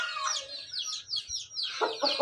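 Chickens clucking in a village coop, a run of sharp, high calls and squawks close by, ending in a few louder, fuller clucks.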